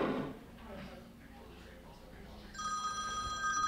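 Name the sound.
telephone ringing, incoming phone call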